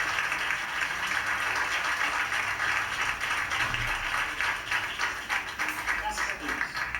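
Church congregation applauding during an honoring of a servant at a 2003 pastor's anniversary service, a dense, steady wash of clapping filling the room, fairly distant, with a voice speaking over it.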